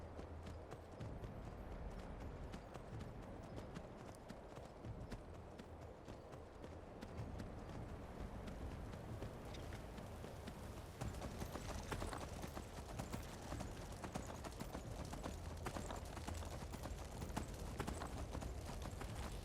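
A riderless horse runs alone, its hooves giving a continuous, fast clip-clop rhythm that stays faint and distant throughout and rises slightly toward the end.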